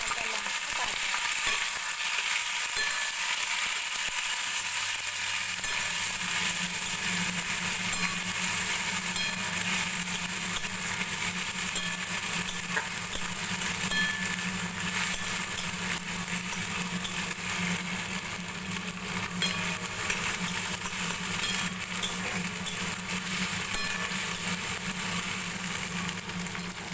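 A paste of tomato, ginger and green chili sizzles and fries steadily in a pan for a pointed gourd curry, a continuous close hiss with occasional stirring.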